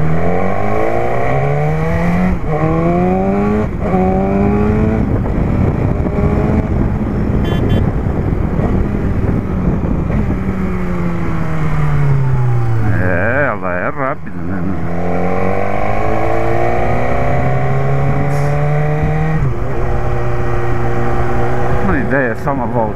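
A BMW S1000R motorcycle engine while riding, rising and falling through repeated gear changes with strong revving sweeps and a brief dip in the middle, loud and close throughout.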